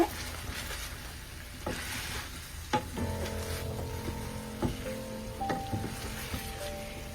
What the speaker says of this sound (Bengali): আর এখন একটু নাড়াচাড়া দিব